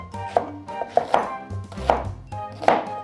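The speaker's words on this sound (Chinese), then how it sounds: "现在切一下大葱、洋葱，" A knife chopping leek and onion on a cutting board, about six distinct close thunks in an uneven rhythm, each with a short woody ring, and no talking.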